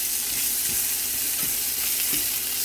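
Onions fry in a pan with a constant loud sizzle and occasional soft stirring scrapes, with no voices.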